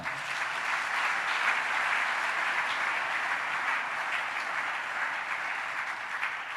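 A church congregation at a family service applauds in a dense, continuous wash of clapping that holds steady throughout, loud and enveloping with no pauses.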